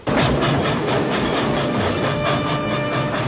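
An old steam train from the Back to the Future film runs loudly and steadily, with a rhythmic chugging clatter and a constant hiss that fill the whole stretch.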